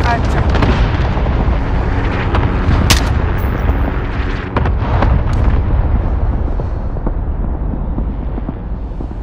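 Cluster strike explosions rumble and boom through a Call of Duty: Modern Warfare match, a dense, continuous barrage of loud blasts and gunfire with sharp bursts near the start and middle, rolling on steadily with a voice faintly underneath.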